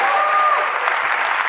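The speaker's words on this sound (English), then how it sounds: "please give Estela a round of applause" Conference audience applause welcoming speaker Estela Franco at a web performance talk, a steady, full burst of clapping with a brief tone near the start and no spoken words.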